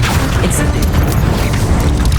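Casting the Incendio fire spell in Hogwarts Legacy on Xbox Series X produces a loud, deep, booming rush of flame that rumbles continuously and stays heavy throughout.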